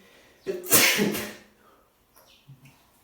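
A single loud, close sneeze bursts out, followed by faint rustling and small sounds in a quiet room.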